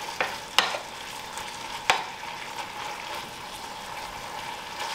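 Crab meat warming in a homemade sauce in a pan gives off a steady soft sizzle, broken by two sharp utensil clicks against the pan near the start.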